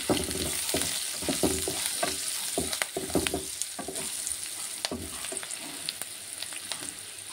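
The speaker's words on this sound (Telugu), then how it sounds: "ఇవి కొంచెం ఫ్రై అవ్వాలి. ఉల్లిపాయలు కొంచెం పసుపు," Onions sizzle steadily in a frying pan, with repeated stirring clatters and scrapes breaking through a dense hiss, close and continuous, no talking.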